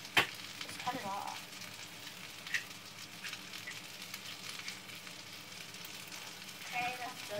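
Sausage frying in a pan, a quiet steady sizzle with occasional sharper crackles and pops, close and continuous with no talking.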